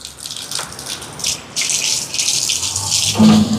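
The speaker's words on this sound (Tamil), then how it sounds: "எங்களோட உலைக்கு தேவையான அளவுக்கு தண்ணியை பிடிச்செடுப்போமா" Water from a tap gushes into a cooking pot, a splashy rushing stream that shifts in tone as it fills, loud and close for a few seconds.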